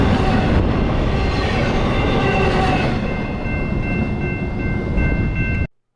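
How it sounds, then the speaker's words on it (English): A train rolls past at La Plata, Missouri, a loud steady rumble of wheels and cars with faint sustained horn-like tones, continuous for nearly six seconds before cutting off abruptly. "So this train's going to roll by"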